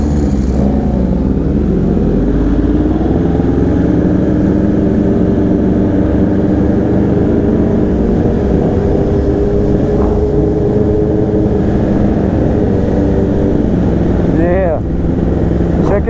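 Sport motorcycles, including a Yamaha R1, BMW S1000RR and Honda CBR1000RRR, ride together through a downtown area in Miami, engines droning loud and close with rising revs near the end, while voices talk over the riding.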